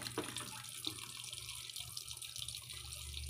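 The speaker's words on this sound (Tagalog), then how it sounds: "O, pasok na po yung tubig." Water pours steadily into a 7.5 kg TCL automatic washing machine drum, a faint continuous trickling rush with small clicks, no voices.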